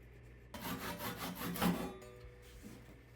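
Rhythmic rasping strokes of a saw cutting through walnut wood, about six back-and-forth passes up close, then a pause and a lighter stroke; no talking.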